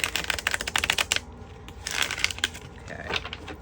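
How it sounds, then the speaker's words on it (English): Tarot deck being shuffled by hand, a rapid riffle of card clicks that comes in close bursts, pauses, then starts again more softly, with no talking. "Let's give this a shuffle because that is strange."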